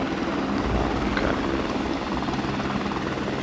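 Helicopter flying a patrol loop in the tactical shooter SOCOM: Combined Assault, a steady broadband rotor and engine drone that stays loud and even throughout with no voices over it.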